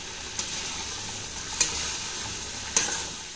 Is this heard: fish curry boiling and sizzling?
yes